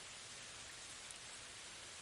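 Light rain falls in a soft, steady hiss of fine drops, uniform and continuous throughout, faint and even with no voices or other sounds.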